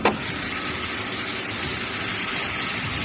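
A car engine catches with a brief starting burst, then settles into a steady, even idle close by, tested after a hard-starting battery problem.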